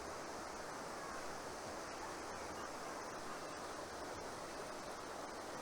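A forest creek near the Chattahoochee River flows steadily, a soft, continuous rushing hiss of water that stays even throughout with no voices.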